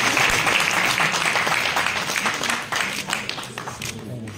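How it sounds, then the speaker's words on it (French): An audience at a sports managers' forum applauds, a dense wash of clapping from many hands that stays strong at first and then thins out toward the end. "je vous demande d'applaudir"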